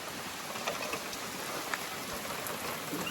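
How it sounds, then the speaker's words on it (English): Heavy rain pours down during a thunderstorm, a dense steady hiss of drops striking surfaces close by, with scattered louder patters and no break in the downpour. "Boy, it's raining hard."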